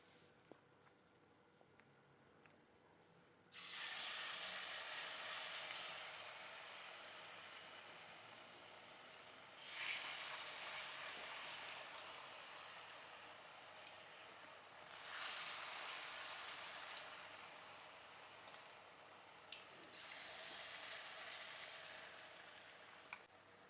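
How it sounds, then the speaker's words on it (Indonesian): Shrimp and vegetable fritters (bala-bala) fry in hot oil, giving a loud bright sizzle in several long bursts that each rise and fade, separated by quieter pauses, with no voices over it. "Oke, kita lanjut goreng."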